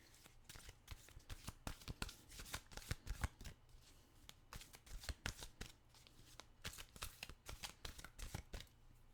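Oracle cards are shuffled by hand in a quiet room, a steady run of crisp riffling snaps and soft card slaps that repeats close up through the whole stretch, with no talking.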